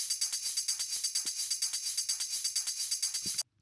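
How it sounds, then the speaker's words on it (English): A bright, steady Melbourne bounce tambourine loop repeats in quick even jingles for a few seconds, then cuts off abruptly. "and we have this little tambourine loop."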